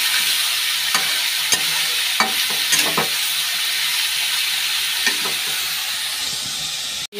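Green chillies and salt frying in a pan, with a steady sizzle and hiss throughout and scattered scraping taps from a stirring spoon, close and continuous, with no talking.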